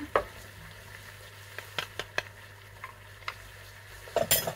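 King oyster mushrooms sautéing in a pan with crispy chicken skin: a low continuous sizzle punctuated by sparse sharp utensil clicks and taps, with a small cluster of louder knocks near the end.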